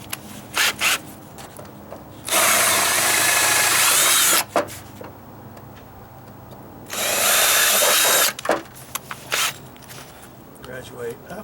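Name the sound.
power drill enlarging a hole in a wooden deck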